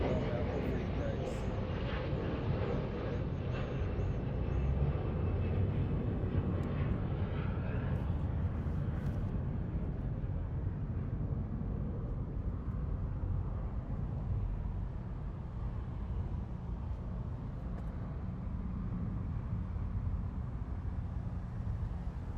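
A small airliner departs LAX bound for San Antonio, Texas, its engine roar strong at first and gradually fading into a distant rumble, with someone talking over it.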